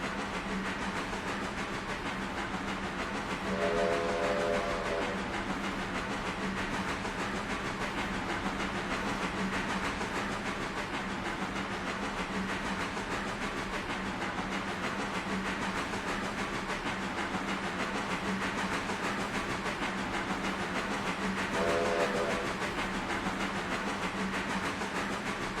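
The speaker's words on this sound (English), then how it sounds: "So this is a mogul type loco" A mogul type steam locomotive in the railway game RailRoader, a steady hiss and rolling rumble throughout, with two short whistle blasts several seconds apart.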